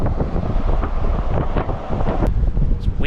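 Strong wind buffeting a microphone on the Oregon coast, a loud, continuous low rumble with gusty surges and no talking.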